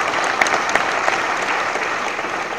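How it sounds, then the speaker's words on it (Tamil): Dense, steady applause from a large audience at a Tamil film audio launch, filling the whole stretch at an even, loud level with no break. "அதனால அவருக்கு உங்களது கரகோஷத்தை மிகப்பெரிய அளவுல கொடுங்க."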